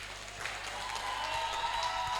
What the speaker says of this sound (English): You see the people are applauding